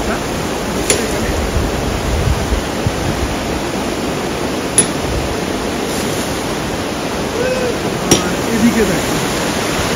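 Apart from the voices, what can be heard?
waterfall on the Silk Route near Zuluk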